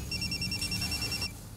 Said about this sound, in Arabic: روزا باشا تليفون